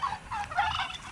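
Farm turkeys gobble in a coop, a rapid burbling chorus that rises and falls in quick overlapping bursts close by, with no talking.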